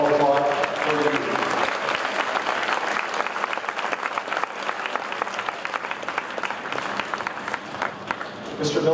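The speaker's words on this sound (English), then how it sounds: "Let's all applaud for you." An audience applauds parent volunteers at a school marching band event, steady dense clapping from a large crowd sustained for several seconds, loud and close, with faint voices and cheers mixed in.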